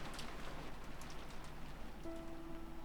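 Heavy downpour in the Umineko visual novel game: a steady, dense hiss of rain pouring on surfaces, loud and continuous throughout, with no voices.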